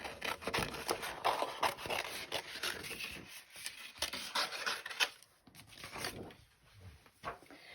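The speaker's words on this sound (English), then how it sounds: "I'm going to cut this gorgeous flower out" Scissors snipping and rasping through stamped cardstock while a flower shape is cut out for card making, a steady run of close, crisp cuts and paper rubs with brief pauses.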